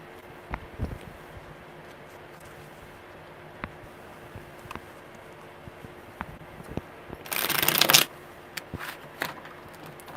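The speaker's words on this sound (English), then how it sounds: "Okay, one more good shuffle." Tarot cards being shuffled during a live reading, a quiet riffle of soft ticks and crackles with a brief louder burst of shuffling near the end, close and alone.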